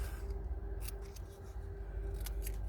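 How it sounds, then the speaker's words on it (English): Scissors cut a paper label in half, a few quick crisp snips at close range over a quiet background. "So I'm gonna cut this in half"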